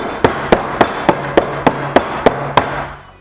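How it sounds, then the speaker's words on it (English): Pan of coconut cornbread batter, portioned into cupcake holders, is tapped down on a kitchen counter: ten sharp, evenly spaced knocks at about four per second, close and clear, then quiet. "Then we're going to tap this down onto your counter."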